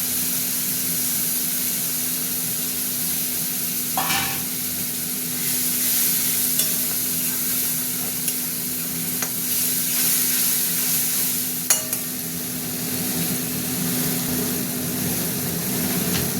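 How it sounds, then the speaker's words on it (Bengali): Tomato paste and prawns fry in a pan with a continuous close sizzle, broken by a few brief clinks of stirring. "টমেটোটা ভাজা ভাজা হয়ে গেছে"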